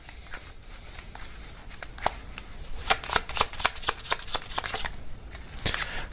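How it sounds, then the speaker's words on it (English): A deck of oracle cards being shuffled by hand, close and fairly quiet, with soft riffling flutters that build into quick bursts of crisp card slaps, then pause briefly before a final flurry. "let me get some oracle cards here as well for part of this main message"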